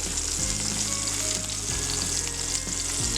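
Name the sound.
aloo tikki frying in a pan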